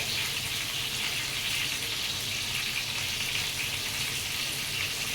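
Food frying in oil in a pan gives a steady, close sizzle that holds at an even loudness the whole time, with no talk over it.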